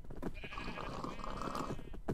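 Sheep bleat in a pen in a video game, their wavering calls overlapping continuously over a dense, steady background. The flock sounds close and moderately loud, with no voice over it.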